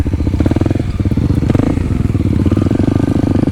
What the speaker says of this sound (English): I'm gonna wheelie up this thing and then keep going